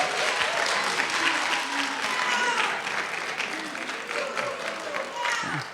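Audience applause at a campus Black History Month program, a steady moderate burst of clapping from a crowd with a few voices mixed in.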